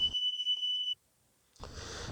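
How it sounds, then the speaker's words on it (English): A fire alarm sounds in a home as a steady high-pitched electronic tone, going off for about a second before cutting to silence, then a burst of louder noise follows. "a bit of a fire alarm going off there"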